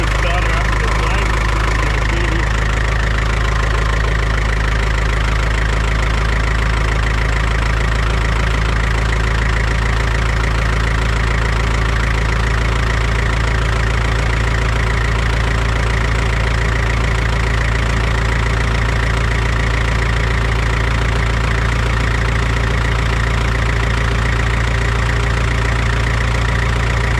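International Super W6TA tractor engine running on gasoline, a loud steady idle with a deep low throb and even knocking rhythm that continues throughout.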